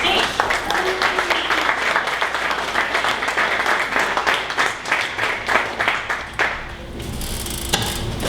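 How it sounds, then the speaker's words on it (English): A room of attendees at a 1 Million Cups Dallas event applauds with sustained, dense clapping that thins toward the end, where a voice begins speaking. "So everyone please stand up and another round of applause."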